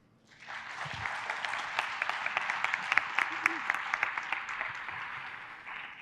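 An audience at a conference talk on rare disease therapies breaks into applause, swelling quickly from quiet into a full, steady round of clapping with crisp individual claps, and a voice speaks briefly underneath.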